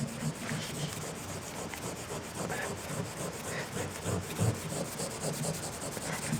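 Steel wool scrubs over oxidized aluminum in a steady, close, gritty rasp, a continuous back-and-forth rubbing with no other sound over it.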